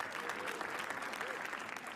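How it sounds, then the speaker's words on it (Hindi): Studio audience applauding steadily for the host at a comedy roast show, a dense, continuous clatter of clapping from a crowd that holds level for the whole stretch without a break. "ताली बजाओ सब लोग"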